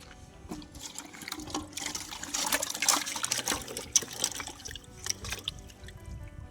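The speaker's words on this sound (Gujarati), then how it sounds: "હવે આ સક્કરિયા આપણે ધોઈ નાખશું" Sweet potatoes are washed in water, with sloshing, splashing and trickling in an irregular run of bursts at close range and moderate loudness, and no one speaking.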